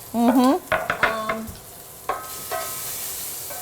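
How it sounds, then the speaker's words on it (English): Bacon sizzling and crisping in a pan while it is stirred and turned, with soft scraping and clinks. A short loud burst opens the clip before it settles into quieter, scattered frying noises. "See how the bacon is toasting pretty good?"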